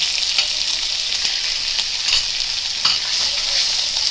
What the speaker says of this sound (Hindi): अभी कोकनी मसाला डालेंगे।